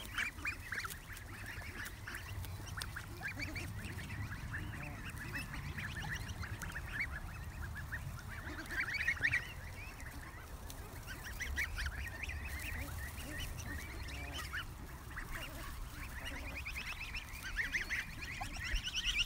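Geese honk and chatter close by at ground level, a busy overlapping flock of calls that continues steadily over nearly twenty seconds with no one talking.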